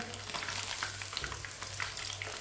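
Chicken pieces fry in a pan with a continuous crackling sizzle and scattered sharp pops. A faint low hum runs underneath, and no one speaks.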